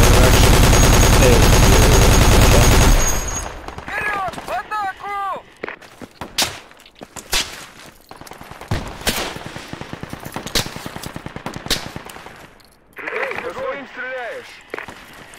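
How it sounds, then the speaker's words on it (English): Gunfire in the military shooter game Project Reality, with a dense opening burst followed by scattered sharp shots and short volleys. Brief voices come in between the shots. "I'll shoot in their general direction."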